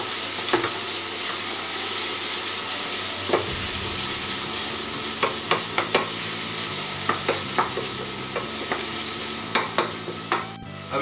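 Fennel compote cooking in a pan while a spoon stirs it, sharp scraping knocks repeating through the second half over a steady sizzle and bubbling, close with no talk.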